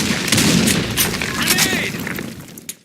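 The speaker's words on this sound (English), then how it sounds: "Grenade! Fire in the hole!" Grenade blast in the shooter game Insurgency: Sandstorm, a loud booming burst with scattered gunfire crackling around it, sustained and dense for a few seconds amid battlefield noise and voices.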